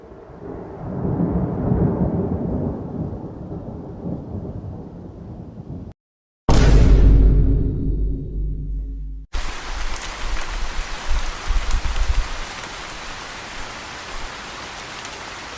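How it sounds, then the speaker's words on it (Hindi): A village thunderstorm brings a low rumble with rain, a brief silence, then a loud close thunderclap that slowly rolls away, followed by steady heavy rain hissing. "एक रात गांव में तेज तूफान आ गया। बारिश बहुत तेज होने लगी।"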